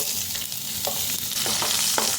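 Chopped onion frying in oil with bay leaves, cardamom, cinnamon and cloves, a continuous loud close sizzle broken by a few soft stirring scrapes, with no talking.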